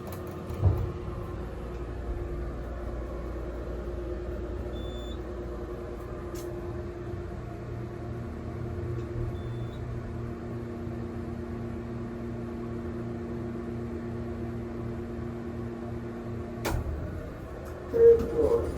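An old Mowrey hydraulic elevator runs during a ride at night, giving a steady low motor hum with a faint tonal whine throughout, a brief thump near the start and a clunk as it stops near the end.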